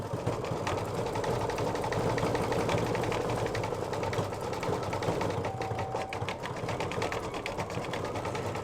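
An in-the-hoop embroidery machine stitches small yellow thread dots on a fabric mug rug, a steady, close mechanical whirring hum with rapid needle pulsing that runs continuously without talk.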